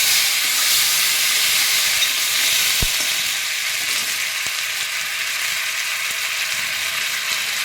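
Ginger and green chili paste frying in a hot tempering for a mixed vegetable curry, giving a loud, steady, close sizzle that hisses evenly without pause and fades only slightly toward the end.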